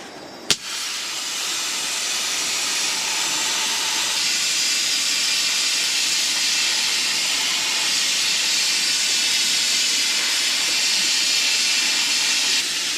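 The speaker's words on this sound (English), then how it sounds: "open on-off valve on the big CO2 tank" A big CO2 tank valve opened to inflate a small scuba setup gives a sharp click, then a loud, steady, broadband gas hiss that runs unbroken for many seconds, close to the listener with no voices.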